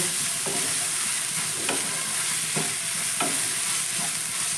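Soybean filling with sugar fries in a pan with a continuous loud sizzle, broken by about five scraping strokes of a spatula at an uneven pace.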